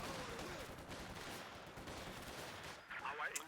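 An MG42 machine gun fires in the video game Company of Heroes 2, a faint, dense rattle of continuous automatic bursts mixed into distant battle noise, with a voice talking lightly over it.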